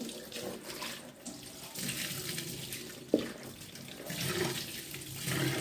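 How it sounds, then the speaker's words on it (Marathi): Poha (flattened rice) rinsed under running tap water in a kitchen, a continuous moderate splashing flow with a brief clink partway through. "स्वच्छ असे पोहे धुवून घ्यायचे"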